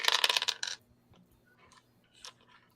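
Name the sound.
rolling three dice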